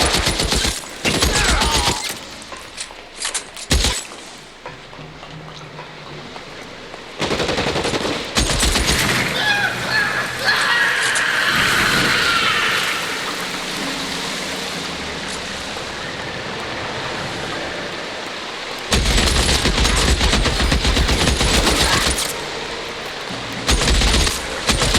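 Bursts of .30-06 rifle gunfire in the LA Noire video game, loud rapid volleys at the start, again around seconds seven to eight, and a sustained barrage near the end, with quieter ambient noise in between.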